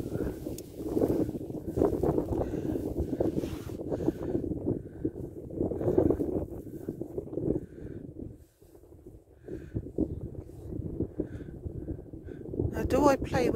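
Gusty wind buffeting the microphone in heavy rumbling bursts, with people talking underneath and a lull partway through.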